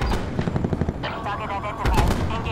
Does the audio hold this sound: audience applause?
no